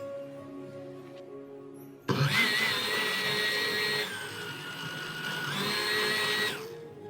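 A blender whirs through a pomegranate juice, kefir, ginger and parsley drink, starting abruptly after a quiet lead-in, then running loud and close with a high motor whine that dips briefly in pitch before rising again.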